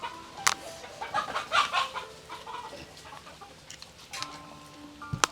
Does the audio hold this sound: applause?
no